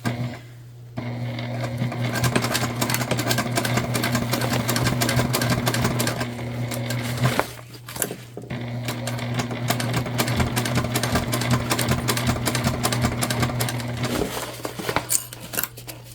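A sewing machine stitches a fabric book bag tote in a steady, close mechanical whir with rapid needle rattling, pausing briefly midway before starting again, loud and with no talking.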